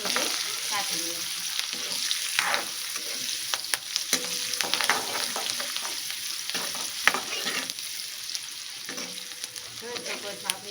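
Chopped onions sauté in a pan over a medium flame, a steady sizzle broken by repeated scraping and stirring strokes, close and fairly loud, with no one talking.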